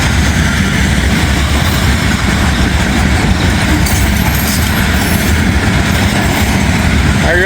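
A steel slab freight train rolls past nearby in a continuous heavy rumble of wheels and cars, with a brief metallic squeal near the end.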